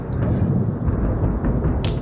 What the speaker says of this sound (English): Thunder's rolling in.